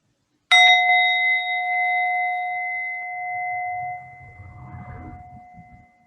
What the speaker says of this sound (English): when you hear the sound of the bell, bring your attention back to your breath